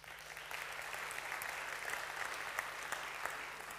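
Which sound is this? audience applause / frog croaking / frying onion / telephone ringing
audience applause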